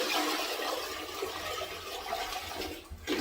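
A bucket of water is dumped all at once into a toilet bowl, setting off a loud, rushing flush that swirls and drains steadily for a few seconds, close up and without talk.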